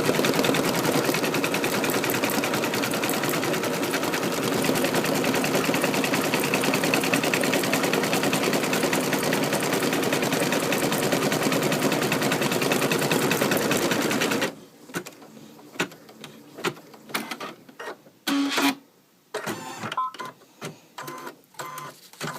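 Embroidery machine stitching a design onto glitter iron-on vinyl material held in a hoop, a loud continuous rapid mechanical whirring and clatter that stops abruptly partway, leaving quiet handling clicks and knocks.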